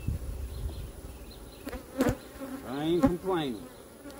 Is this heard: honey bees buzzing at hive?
yes